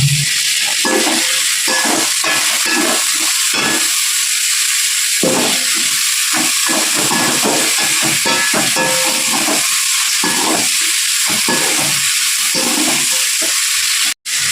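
Tomatoes and onions sauté in a pan with salt for a kurma kuzhambu, giving a loud, close, continuous sizzle and steamy hiss broken by frequent stirring scrapes. No one speaks.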